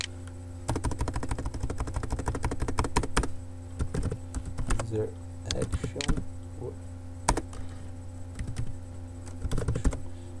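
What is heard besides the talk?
typing on a computer keyboard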